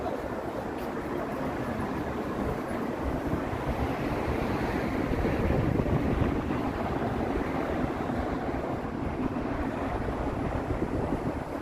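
Strong wind buffeting the microphone on a downtown Toronto street on a Saturday night, a loud, continuous roar that rises and falls gently and covers everything else.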